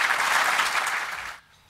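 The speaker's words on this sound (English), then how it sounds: "round of applause" Loud applause from an audience at a public meeting about pensions, dense and steady for over a second before cutting off abruptly into near silence.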